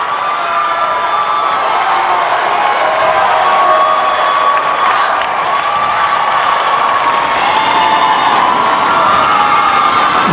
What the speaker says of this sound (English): he's letting this applause sink in